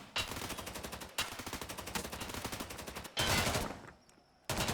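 Automatic gunfire rattles in rapid bursts during a competitive video game match, several long strings of fast shots separated by brief pauses, with one quieter gap before a final burst.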